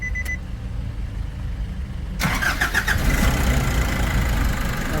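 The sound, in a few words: Nissan NV350 van engine starting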